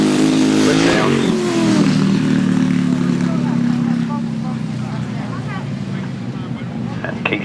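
Left-hand grasstrack sidecar outfits race at a South Eastern championship meeting, engines droning loud and steady with a falling pitch as they pass, wind buffeting the microphone throughout and a commentator's voice running over the top.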